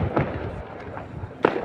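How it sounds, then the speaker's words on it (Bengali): Fireworks going off in the distance outdoors at night near a supermarket, a few muffled pops and thumps spread irregularly, with one sharper burst near the end over a low breezy background. "ওইদিকে বাজি উঠে যাচ্ছে।"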